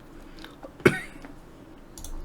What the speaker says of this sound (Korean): 기침만 안 났으면 좋겠는데